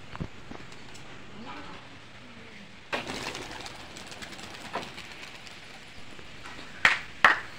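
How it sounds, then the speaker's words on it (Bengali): Pigeons released from a house in Bengal, soft coos and a few sharp wing flaps or clatters rising near the end, heard faintly against quiet outdoor background. "পায়রাগুলো এবার উড়ে আছে"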